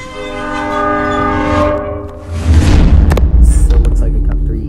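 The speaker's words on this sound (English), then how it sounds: "When the lights are flashing and the gates are down, wait for the train to pass by." In a Roblox game, a train passes a level crossing with flashing lights and lowered gates: a long, loud horn blast sustains first, then the rumbling clatter of the train rolling through close by.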